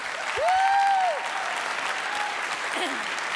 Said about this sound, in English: Can we get one round of applause for our wonderful students here?